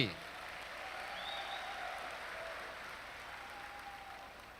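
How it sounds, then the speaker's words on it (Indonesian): A crowd of university students at an orientation event claps steadily for several seconds, an even wash of applause heard from a distance in a large room, slowly fading toward the end. "Tepuk tangan untuk mahasiswa UT."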